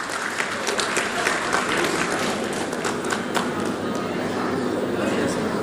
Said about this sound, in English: Kindly, a big round of applause,